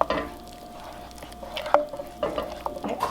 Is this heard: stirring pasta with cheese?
yes